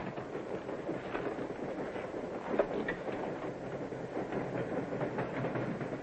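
Inside a moving passenger train on the Midnight Limited, a steady rumbling roll carries a soft rhythmic clickety-clack of wheels over rail joints, continuous and moderately quiet, with no talking.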